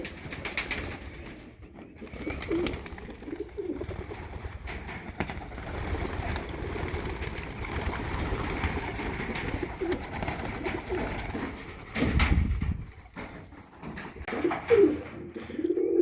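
Pigeons coo in a loft, a continuous layered murmur of low throaty calls from several birds close by, with occasional wing flutters and louder bursts, with no talk.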